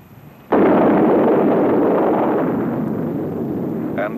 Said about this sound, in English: The aircraft continues its maneuver to escape the effects of the bomb, which is lobbed with pinpoint accuracy to the target.